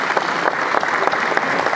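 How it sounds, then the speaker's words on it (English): Audience applause at the Harare Metropolitan Provincial Awards ceremony, steady dense clapping from a large crowd that holds evenly throughout, with no talk over it. "A round of applause"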